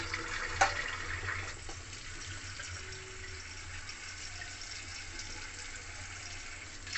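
Water runs into a pan set up as a steamer for Bengali steamed sandesh, a low, steady trickle and splash that goes on throughout at modest loudness, with no talk.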